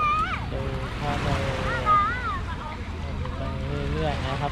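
Sea waves at Kunsan beach wash in a continuous rumbling surf under heavy wind buffeting, with people talking nearby over the steady roar.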